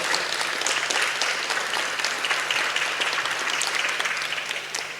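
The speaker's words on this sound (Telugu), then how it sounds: "ఈరోజు ధ్యానానికి గట్టిగా, ఇంకా గట్టిగా చప్పట్లు" Sustained applause from a live audience at a music and meditation gathering, dense steady clapping filling the room for the whole stretch and tapering slightly at the end, with no voices over it.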